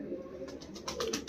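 Punjabi Malwai pigeons coo in a loft, a soft low murmur of cooing running throughout with brighter bursts of wing or calling noise in the second half, close and moderately loud.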